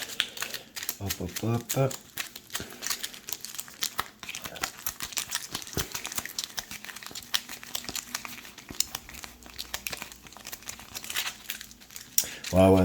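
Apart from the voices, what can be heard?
shuffling a deck of board game cards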